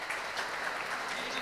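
Audience applause at the UkraineInvest Talks international investment conference in Vinnytsia, a steady, dense clapping from a seated crowd that continues evenly throughout without pause.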